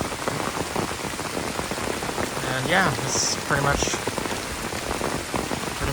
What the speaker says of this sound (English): we're doing it in a downpour